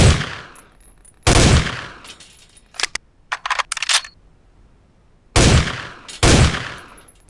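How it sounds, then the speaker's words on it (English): Rifle fire from an M4 in a military shooter video game: loud shot bursts, a cluster of rapid single and burst shots in the middle, then more sustained automatic bursts, with no talking. "You can adjust them to single shot, burst fire, or fully automatic. Give it a try."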